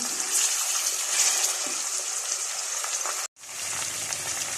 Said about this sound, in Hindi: चिकन और प्याज ये दोनों चीज़ें साथ साथ ही फ्राई होती रहेंगी।